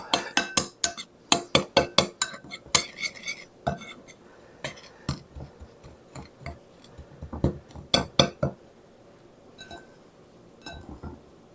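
A metal utensil mixes ingredients in a bowl with rapid, sharp clinking and tapping strokes in irregular bursts, loud and close, with short pauses between runs and no talking.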